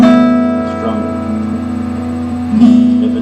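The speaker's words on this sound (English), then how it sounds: "So all together, the guitar is going to sound like this." Strings of a tuned acoustic guitar strummed together ring out as a sustained chord, and a second strum near the end brings a fresh attack. No one speaks.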